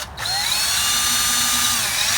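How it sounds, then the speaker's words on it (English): A DeWalt variable-speed drill fitted with a polishing wheel spins up on a car headlight, rising quickly to a loud, steady high whine that holds with slight pitch wavering. "I've got my variable speed DeWalt drill to do this."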